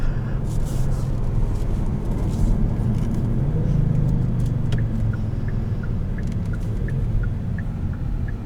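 A luxury car, one of a 2020 Volkswagen Arteon R-Line or Kia Stinger GT1, runs with a steady low engine and road rumble heard from inside, joined later by a soft repeating ticking like a turn signal.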